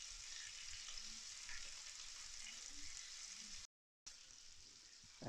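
Six lamb chops sizzle steadily in a cast iron pan, a dense, even frying hiss with a brief dropout near the end before it resumes, no talking over it.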